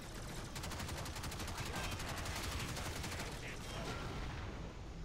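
Rapid automatic gunfire from a weapon in the video game Warframe, a dense, loud, continuous burst of shots running the whole length, with a bang-like explosion mixed into the barrage.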